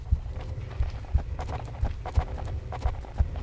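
Running footsteps in Tomb Raider: Unfinished Business thud at a steady, even pace, a little muffled and at mid-distance, with low game ambience behind them.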